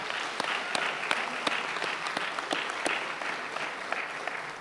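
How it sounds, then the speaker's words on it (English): A boxing arena crowd applauds at a Manny Pacquiao versus Jessie Vargas fight, dense sustained clapping with sharper individual claps popping out, heard from some distance. "I just want to give Jessie Vargas a big round of applause"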